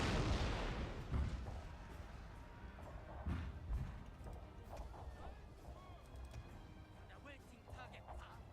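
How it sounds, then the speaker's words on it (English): Cannon artillery fire in the Fall of Samurai strategy game, a heavy boom at the start followed by scattered thuds and crackling battle noise at a distance, with someone talking over it. "these cannons are still racking up some pretty good kills on us"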